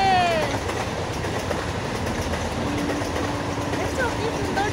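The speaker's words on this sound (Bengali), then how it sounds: "আর ওই দিকে দেখো ট্রেন যাচ্ছে" A train rolls past rural fields at a village with a steady rumbling clatter of wheels on rails and a faint horn near the start, while a voice talks over the passing noise.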